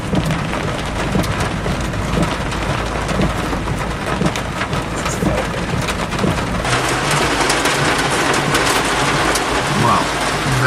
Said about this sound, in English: Wow, very strong thunderstorm.